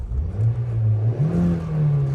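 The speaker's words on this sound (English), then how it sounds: "the engine actually sounds really nice as well" A 2010 Honda Jazz 1.4 petrol engine revs steadily while the car drives, its drone rising in pitch midway and holding loud and close, with road and wind noise underneath and no voices.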